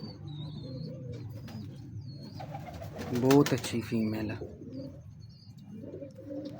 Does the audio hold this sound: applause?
no